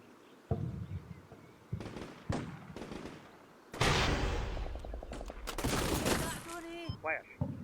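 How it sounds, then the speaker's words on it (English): Artillery shells land in Combat Mission Shock Force 2, a modern war game, as loud broadband blasts come in several bursts, a heavy sustained impact in the middle, with tonal radio-like chatter and game effects mixed in. "Slowly but surely, we start getting some artillery hitting"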